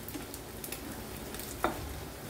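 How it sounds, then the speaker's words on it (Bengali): Goat-fat boras fry in a pan over a low flame, giving a soft, faint, steady sizzle with a few small pops and one brief sharper crackle. "লো ফ্লেমে বড়াগুলি আমি ভেজেছি।"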